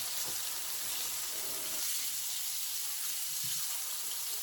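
Whitetail deer liver and heart frying in a pan give a steady bright sizzle that holds evenly throughout, with a few soft clinks and shuffles of the food being turned.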